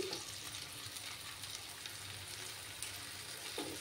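Spice paste with turmeric poured into hot oil for Tangra fish curry, giving a steady, fairly soft sizzle and frying hiss that continues throughout with light stirring clicks.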